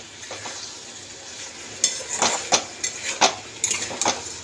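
Meat frying in a pan with ginger garlic paste being stirred in, a steady low sizzle broken by several sharp scrapes and clinks of a utensil against the pan.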